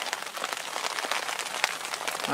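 Steady rain patters through the night on a sea fishing spot by the UK coast, a dense continuous hiss of drops with no voices.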